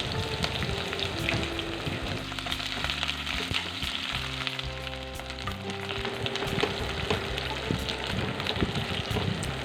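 Finely chopped onions frying in oil with bay leaves, a dense continuous sizzle and crackle up close, with occasional scraping and stirring, no voices.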